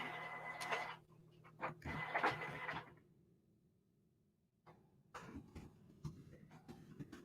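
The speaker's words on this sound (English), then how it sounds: "All right, so it's printing." Printer running a sublimation print for a cola can tumbler, bursts of mechanical whirring and clicking from the print head, a pause of near silence, then further clattering passes.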